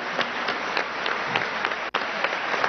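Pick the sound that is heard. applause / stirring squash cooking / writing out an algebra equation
applause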